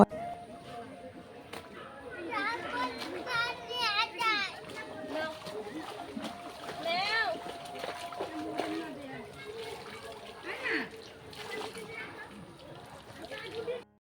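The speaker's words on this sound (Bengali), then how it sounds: "এদিকে কাপড় ধুয়ে নিচ্ছি" Clothes being washed by hand at a river ghat, with repeated splashes and water sloshing close by as someone talks over the work.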